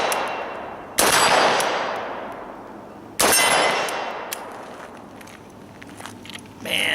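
Two sharp 5.45 mm Kalashnikov rifle shots crack out about two seconds apart, each trailing a long ringing decay across an outdoor range toward steel plate targets, followed by faint scattered clicks and handling noise.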